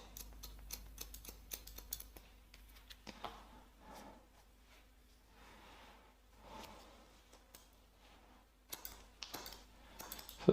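Scissors point-cut a fringe while feathering a shaggy mod haircut: soft, quick snips come in irregular bursts, close but very quiet, with long near-silent gaps between them and no speech.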